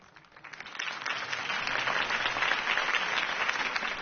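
A crowd at a political campaign speech breaks into applause, building quickly from scattered claps into a loud, sustained wash of clapping.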